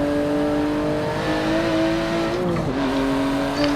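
A car in the racing game Forza 7 drifts, its engine droning loud and steady with gear shifts and faint tire squeal, and no talk over it.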